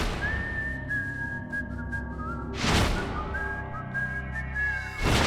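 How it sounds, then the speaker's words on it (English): A person whistles a catchy, bright melody in sustained tones and gliding phrases, with two dull thuds breaking in midway and at the end over a low background rumble. "has a gift for whistling undeniably catchy melodies"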